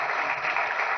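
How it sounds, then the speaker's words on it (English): Steady, close audience applause filling a brief moment at an industry association's annual meeting in a hotel hall, dense and even with no voices over it. "I'm guessing by the applause that I'll come back, so I'm hopeful."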